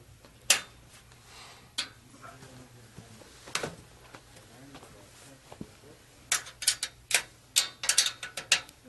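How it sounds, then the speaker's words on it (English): Half-inch wrench tightening bolts on a queen/double metal bed frame, giving a run of quick ratcheting clicks and metallic taps, sparse early and then dense bursts toward the end, close and moderately loud over a low steady hum. "Half inch wrench to tighten."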